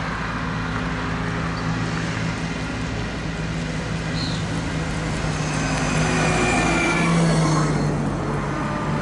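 A VIA Rail passenger train with a Budd car rumbles past steadily, with a continuous rolling roar of wheels on track that swells slightly toward the end.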